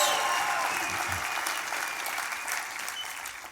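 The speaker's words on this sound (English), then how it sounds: "see how much better you feel when you applaud that way?" An audience at an Enagic Global event bursts into loud, sustained applause that fills the room, slowly easing off toward the end.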